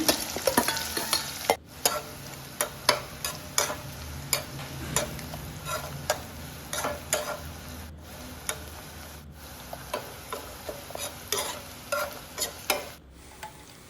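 Bitter gourd pieces fry in hot oil with a soft, continuous sizzle, while frequent sharp ticks and scrapes of a utensil turning them in the pan sound close by, with no talking.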